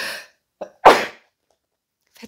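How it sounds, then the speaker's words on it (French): One loud, close sneeze preceded by a short catch of breath, with brief breathy sounds before and after in an otherwise quiet room. "Je vais éternuer"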